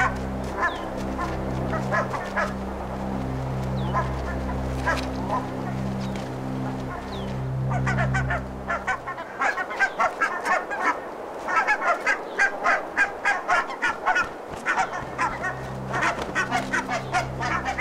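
Geese honk repeatedly over a low steady hum, with a busy burst of overlapping honks and calls in the second half.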